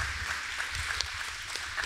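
Audience applause at a closing panel session at the University of Havana, a soft, steady wash of clapping heard faintly from a distance with no break.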